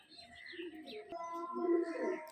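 A male Andhra pigeon coos in a short, close, low murmuring call lasting a couple of seconds.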